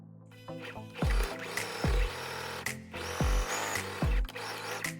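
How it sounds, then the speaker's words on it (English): A sewing machine stitches the side seams of a linen tote bag, its motor whirring in several short bursts with brief pauses and soft thumps between runs, close and fairly loud. "Sew the side seams with a 1½ cm seam allowance."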